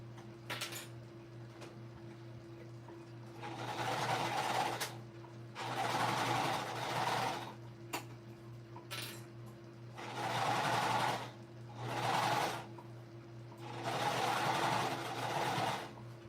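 Sewing machine stitching up the side seam of a shoulder bag in several bursts of a few seconds each, separated by short pauses, running steadily over a constant low hum.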